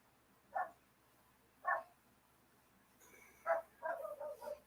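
A dog barks nearby in a quiet room, two single barks spaced apart, then a sharper bark followed by a short run of rapid yips.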